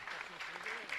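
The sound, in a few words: congregation applause at a Mass for an anniversary couple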